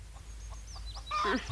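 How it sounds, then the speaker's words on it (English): Chickens cluck softly in a quick series, ending with a louder, higher squawk close by, over a low background rumble. "Why, these chickens."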